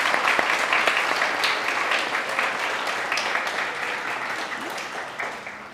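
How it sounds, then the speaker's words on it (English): An audience at a service-dog graduation ceremony gives sustained applause for the graduates, a full wash of clapping that gradually eases off. "One last big round of applause for our June graduates."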